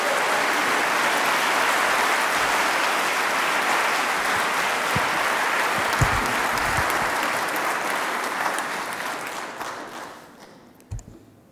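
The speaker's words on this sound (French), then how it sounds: "merci d'applaudir" Sustained applause from a colloquium audience, loud and dense for most of the stretch, then thinning into scattered claps as it fades out near the end.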